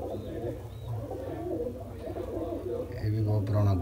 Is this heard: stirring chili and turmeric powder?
no